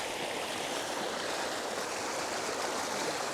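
A river winding through mossy rocks and ferns, tumbling over cascades in a steady, broadband rushing wash heard close and continuous, with no voices.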